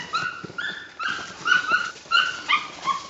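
A Jagdterrier barks and yips repeatedly inside a wild boar pen, sharp close calls coming in an uneven rhythm with short whimpering tones, alone without talk.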